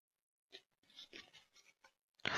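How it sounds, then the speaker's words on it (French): Tarot cards rustle and slide as a hand searches through the deck: a few soft, scattered shuffling bursts, then a sudden loud, close rustle at the end. "Attendez, je recherche les cartes."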